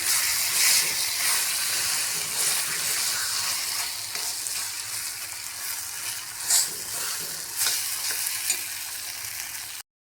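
Eggplant being stir-fried in a pan for bharit, a steady close sizzle with scraping stir strokes and a few sharper clinks, continuous for about ten seconds before cutting off abruptly.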